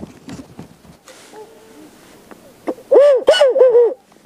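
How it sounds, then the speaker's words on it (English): Owl hooting from a game call used for wildlife photography in the afternoon, with a quiet stretch of faint rustling followed by a loud, close series of several wavering hoots near the end. "I also got an owl call."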